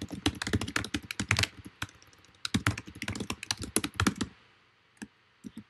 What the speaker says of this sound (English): I can even just type it in right here.